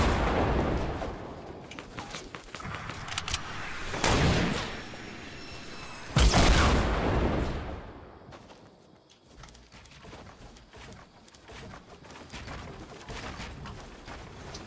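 Rockets and gunfire boom during a Fortnite match, with heavy blasts around four and six seconds and scattered shots and clatter after, fading to quieter combat noise.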